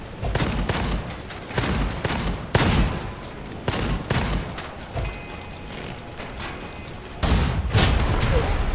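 Rocket launcher fire in the shooter game Gunfire Reborn, a steady barrage of loud blasts and thudding booms in rapid bursts, dense and close, with a heavier volley near the end.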